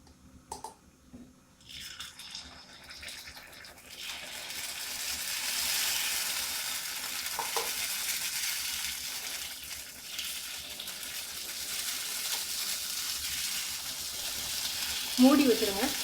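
Sweet kuzhi paniyaram batter poured into the wells of a paniyaram pan sets off a broad hissing sizzle that builds after a few quiet seconds and holds steady, close, with faint clinks near the end.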